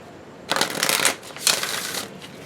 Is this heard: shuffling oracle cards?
yes